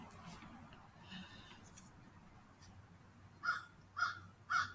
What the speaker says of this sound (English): That bird is cawing on my live stream.